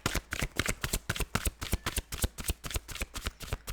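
Cards being shuffled for a tarot-style reading, with a steady run of quick, close, crisp riffling flicks repeating rhythmically, with no talking over them.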